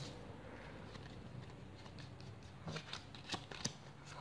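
Playing cards in a card trick are flipped and handled softly at close range, with faint rustling followed by a few quick, crisp card flicks near the end.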